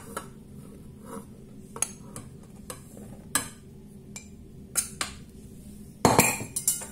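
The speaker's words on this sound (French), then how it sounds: "Je vais ouvrir mon bol. Je vais rajouter mon sel, ma farine," The bowl of a Monsieur Cuisine Plus kitchen machine is opened and salt and flour added, giving scattered clicks, clinks and knocks of lid and utensils, with a louder clattering burst near the end.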